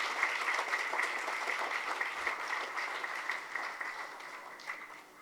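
An audience at a children's hospital event in Fiji claps in a broad, continuous burst that slowly thins and fades toward the end, with no speech on top.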